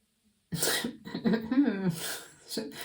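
A few sharp, breathy bursts like a cough or sneeze, close and fairly loud, after a brief silence, with short vocal sounds between them.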